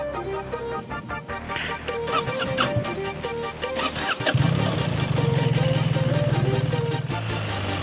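A BMW R 1300 GS Adventure boxer-twin motorcycle cranks after some clicks and handling noises, then fires up and settles into a loud, steady, throbbing idle close by.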